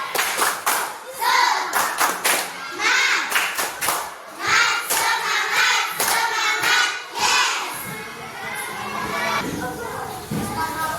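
Children in a classroom perform a rhythmic spirit clap led by their teacher, with sharp bursts of hand claps in patterned groups, alternating with chanted voices and brief pauses.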